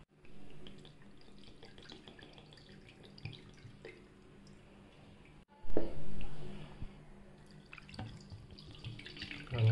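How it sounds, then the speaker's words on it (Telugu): Cold tap water runs and splashes over freshly curdled paneer being rinsed for rasgulla, a steady close trickle that surges into a louder gush partway through, with no talking. "కలెక్ట్ చేసుకున్నాక దాన్ని కూలింగ్ వాటర్తో వాష్ చేయాలి."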